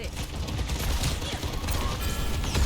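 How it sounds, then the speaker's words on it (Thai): Dense, continuous gunfire from an Overwatch 2 match, with overlapping rapid shots and effects running loud and close throughout, mixed under faint in-game sound. "ยิงไป ยิงไปก่อน ยิงดัก ยิงดักนะ"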